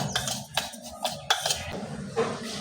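Rice flour dosa batter with cumin and salt is mixed in a bowl, giving irregular close clinks and scrapes of a utensil against the bowl, with no talking.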